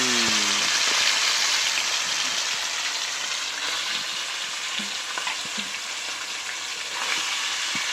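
Oil fries in a kadai with a loud, continuous, close-up sizzle and a few soft stirring scrapes, with no talking.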